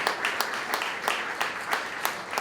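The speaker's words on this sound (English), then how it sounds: "have a nice round of applause for Sam" A room of guests at a charity networking evening claps for Sam, the applause thin and scattered with a few sharper individual claps standing out over a steady patter for a couple of seconds.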